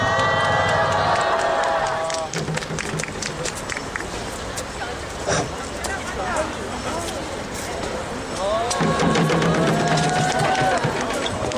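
A crowd at a 2012 street memorial for homeless people who died claps in a dense patter, with voices talking and calling out over the applause.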